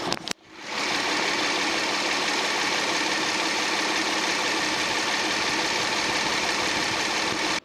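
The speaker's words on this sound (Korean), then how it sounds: "엔진 소리 한번 들어볼게요" A Hyundai Aslan car engine idles steadily and close with the hood open, a constant, quiet mechanical hum with a faint ticking texture, starting after a brief clunk and running uninterrupted.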